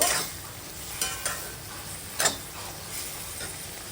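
Soya chunks curry is stirred in a pan after hot water is added. Several sharp scrapes of the spoon cut through a soft, steady sizzle.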